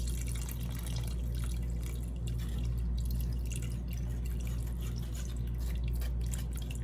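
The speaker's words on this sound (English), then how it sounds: "So she's adding water." Water pouring into a blender while making crockpot birria, a steady close trickling and dripping wash that runs continuously at moderate level without talk.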